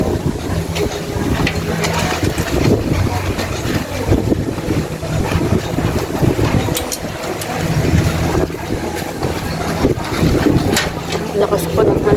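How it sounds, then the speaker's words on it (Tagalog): Strong wind buffets the microphone outdoors beside a small shop, a steady broadband roar with gusting rumble lasting throughout, with no clear speech over it. "Lakas po ng hangin."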